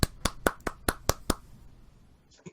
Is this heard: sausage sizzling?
no